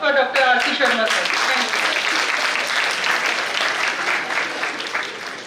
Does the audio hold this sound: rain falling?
no